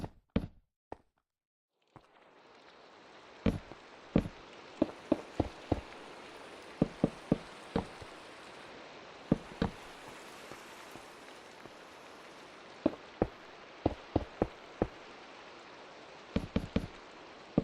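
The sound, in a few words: rain in the video game Minecraft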